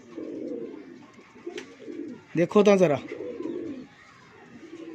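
A pigeon gives a short burst of deep throaty cooing close by, with someone talking softly before and after the call.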